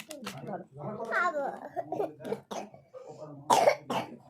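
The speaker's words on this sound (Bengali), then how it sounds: "ঘর করে কাশছে" A person coughs at home, a few short harsh coughs near the end following quieter murmuring voices and a child's chatter nearby.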